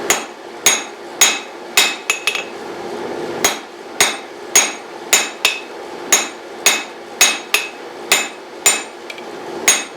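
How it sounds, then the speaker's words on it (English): Hammer blows ringing on a cast steel Doyle anvil while forging a stout taper, about twenty sharp metallic strikes in a steady rhythm with a few brief pauses, loud and close with no talk. "We're forging a stout taper on one side."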